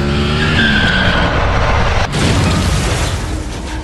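A motorcycle skids out of control and crashes at high speed: a loud, continuous broadband scraping roar, a sharp break about halfway through, then more grinding noise. Nobody speaks.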